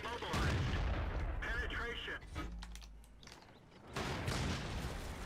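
Tank cannon fire in World of Tanks, around a T-54, comes as a few heavy booming shots with mechanical clatter between them, while someone talks over the game.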